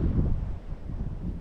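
Wind blusters steadily across the microphone at a fishing spot, a low rumbling roar that swells and dips slightly, close and fairly loud with no voices.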